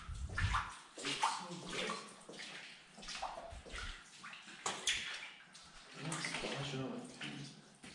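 Footsteps sloshing and splashing through standing water on the floor of an abandoned psychiatric center, several wet splashes in an uneven rhythm, with people talking at times.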